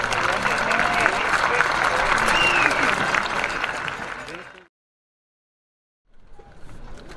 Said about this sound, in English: Please give a round of applause to our DHS staff